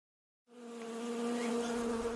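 Honeybees buzzing in a steady, continuous drone that starts abruptly and holds at a constant pitch, close and clear with no other sounds.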